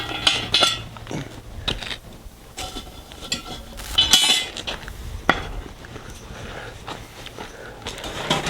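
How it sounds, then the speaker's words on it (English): Metal clinks and scrapes as hot coals are shoveled from an outdoor fire under a cast iron Dutch oven, with irregular sharp knocks and gritty rustling at moderate, close range. "I'll just get a few coals and put down underneath my oven."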